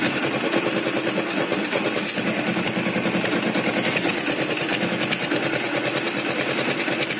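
Idling engine of a 2013 Yamaha Jupiter MX motorcycle with about 46,000 km on it, exhaust covered, putters in a steady, close and fairly loud rapid pulse.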